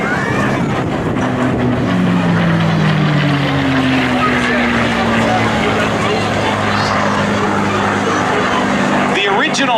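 A P-51 Mustang propeller warplane's engine roars steadily and loudly overhead during aerobatics, its pitch slowly sliding downward as it passes, with wind buffeting the microphone throughout.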